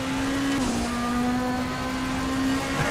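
A BTCC Super Touring race car engine at Croft circuit drones steadily at high revs, a loud continuous buzzing rasp with a slight pitch dip, sustained throughout with no speech.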